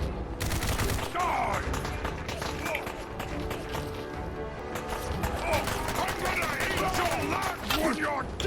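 Loud, sustained gunfire fills a Fallout 4 battle, with dense shots and clattering impacts running throughout and game voices and chatter mixed in over the barrage.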